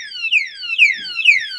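The anti-theft lock alarm on a custom-built electric car sounds loud and close as a repeating electronic siren, three rapid descending chirping sweeps in a steady rhythm with nothing else heard.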